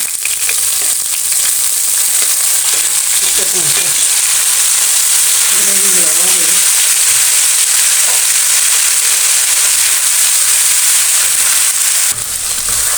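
Tomatoes and onions sizzle steadily in hot oil with coriander, black pepper and cumin, a loud continuous frying hiss with brief stirring scrapes partway through.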